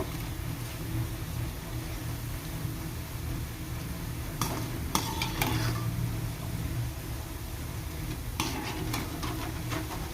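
Cabbage fritters frying in hot oil give a steady close sizzle, with a few clinks and scrapes of a utensil against the pan partway through.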